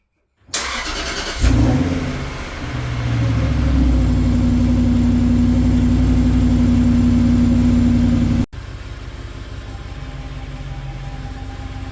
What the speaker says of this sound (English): going to start the engine and just check there's no leaks from the fuel pipes